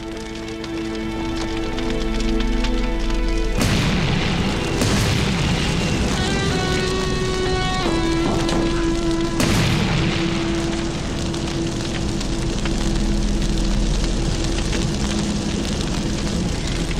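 A car engine bursts into flames and explodes in a French police drama, with a sudden deep boom followed by a loud, sustained roar of fire and crackling debris, more blasts breaking through the rumble.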